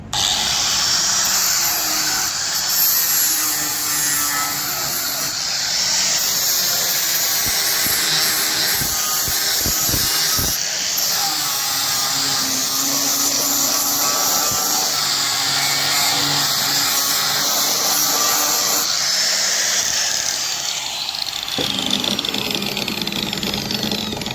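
An angle grinder runs continuously at full speed, a loud steady high-pitched whine with a dense motor hum that holds for the whole stretch, with only slight shifts in tone as it is held.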